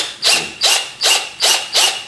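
NRT Pro DC 340 20V cordless drill running in screw mode with the clutch set high: five loud, evenly spaced rasping bursts about every 0.4 seconds, close up and with no talking.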